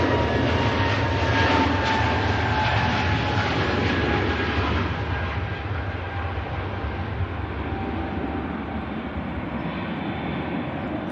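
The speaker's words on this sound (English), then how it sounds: "Here goes the Oslo-bound Scandinavian Neo." Scandinavian Airlines A320neo airliner bound for Oslo departing Manchester Airport, a loud sustained jet engine roar with a whining tone that slowly fades and thins as the aircraft moves away.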